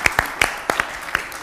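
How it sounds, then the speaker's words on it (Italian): A studio audience on an Italian game show applauds in a few scattered, close claps, loose and uneven rather than a full ovation. "Perfetto, applausi."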